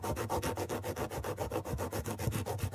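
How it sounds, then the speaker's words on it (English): Sanding the ends of a metal core liner for a large-hole bead, with steady rapid back-and-forth rasping strokes, close up and fairly quiet, and no talking. "And then we're going to polish up this side, sand it down."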